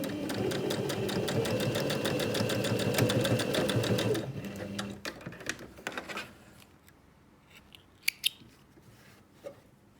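A sewing machine stitches a zipped make-up pouch in a fast, even run for about four seconds, then stops, followed by scattered handling clicks and taps.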